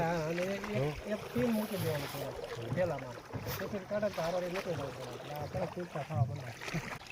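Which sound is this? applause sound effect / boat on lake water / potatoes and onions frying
boat on lake water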